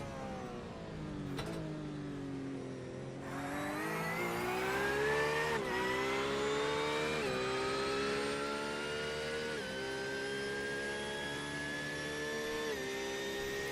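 A Porsche GT3 Cup car on a qualifying lap at Spa-Francorchamps in a sim racing game, its engine wailing steadily higher through the gears with brief dips at each upshift, loud and continuous with no talk.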